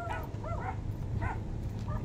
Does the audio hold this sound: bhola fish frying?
no